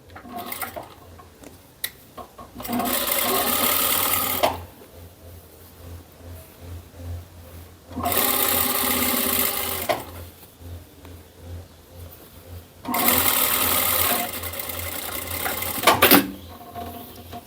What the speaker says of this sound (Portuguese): E vou passar uma costurinha bem na borda.